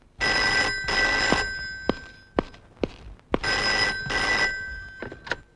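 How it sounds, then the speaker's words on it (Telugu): A telephone in a Telugu film scene rings in two long, loud bursts, with a few dull thuds in the pauses between the rings. "6 నిమిషంలో ఆ ఫోన్ మోగుద్ది."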